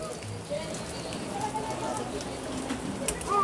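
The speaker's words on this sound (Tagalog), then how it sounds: "Ayun, malakas na yung ulan." Heavy rain falls steadily as a dense, continuous hiss on surfaces, with a low voice murmuring briefly underneath.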